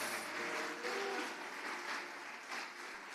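A church congregation applauds during a worship service, a steady wash of clapping held for a few seconds, distant and fairly quiet in a reverberant hall.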